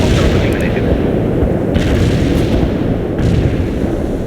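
Artillery barrage in a Soviet-themed military video game, with continuous loud booming rumble and a couple of sharper bursts standing out, under faint radio-style game voices.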